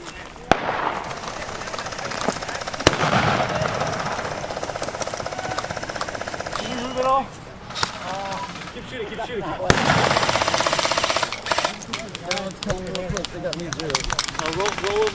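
Airsoft guns shoot BBs in rapid automatic bursts that rattle close and loud, with sharp single cracks scattered between. Voices talk and call out in between the volleys.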